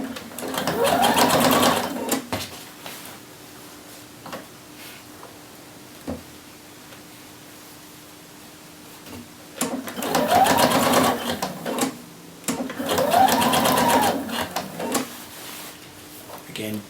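A sewing machine bastes a shirt facing in place, running in three loud bursts of rapid stitching separated by quiet pauses with faint clicks in between.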